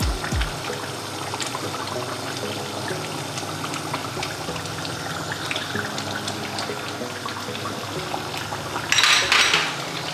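A spoon stirring beef rezala with a spice mix of nuts, fried onion and yogurt in a pot, a steady soft scraping and clinking throughout, with a brief louder clatter near the end.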